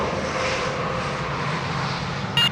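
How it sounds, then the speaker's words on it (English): A Southwest Airlines Boeing 737-700 at Dallas Love Field gives a steady, broad jet-engine roar. The roar holds constant and fairly loud throughout, with no one talking. "It's Southwest Flight 23. It's a 737"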